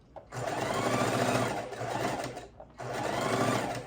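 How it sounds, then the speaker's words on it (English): A sewing machine runs a slow straight stitch on mitten fabric pieces, two continuous close whirring runs split by a brief pause, steady and moderately loud with no talking. "Make sure that you're going slow enough on your machine on a straight stitch to make those corners."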